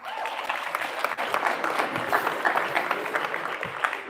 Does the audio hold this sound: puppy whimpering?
no